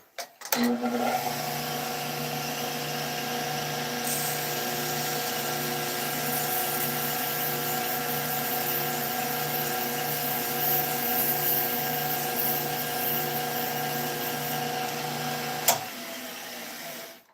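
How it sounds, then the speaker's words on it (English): A wood lathe runs at speed with sandpaper held against a turned piece, a steady loud mechanical whine and hum that stays constant for most of the clip, then stops abruptly near the end. "speed back up, hit it with a little bit of sandpaper, try to clean up that line"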